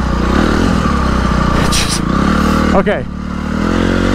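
Honda CRF250R motocross bike engine idling and burbling close by on a trail ride, a steady loud drone with a brief scrape or rev midway, and a voice speaks once over it.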